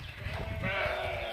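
A flock of sheep herded by a shepherd in rural Karnataka bleats continuously and nearby, several overlapping calls swelling midway over a low outdoor background.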